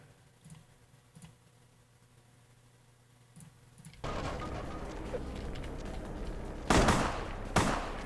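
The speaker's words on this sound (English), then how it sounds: "Someone's got a shotgun." Shotgun blasts in the video game Vampire the Masquerade Bloodlines: a quiet stretch of faint clicks gives way to loud, sustained rumbling, then two sharp, powerful bursts close together near the end.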